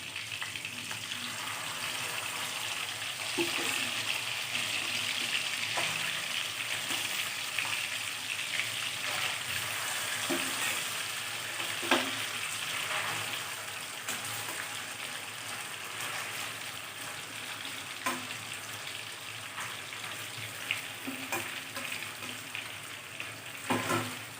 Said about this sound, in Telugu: ఒక గరిట ఆయిల్ వేసుకుని ఆయిల్ హీట్ అయ్యాక బాయిల్ చేసుకున్న చికెన్ వేసుకోవాలి